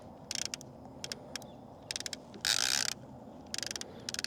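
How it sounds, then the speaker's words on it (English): A fishing reel's clicker ratchets in short rapid ticking bursts as line pays out on a night fishing trip, with one longer buzzing run amid quiet background hiss. "Now all I'm gonna do is flip the clicker on, back the drag off."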